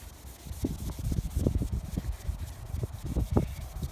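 A cloth is rubbed back and forth over exposed color base coat car paint to clean it. The result is a quiet, close-up swishing with an uneven, repeated rhythm.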